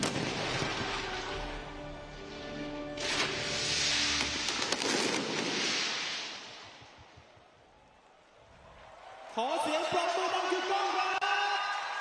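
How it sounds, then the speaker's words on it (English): Fireworks bursting into the Korat evening sky at the 13th ASEAN Para Games 2025 opening ceremony in Thailand, dense crackling booms over crowd noise and music, fading briefly before a fresh loud volley with cheering. "as the fireworks go up into the Korat evening"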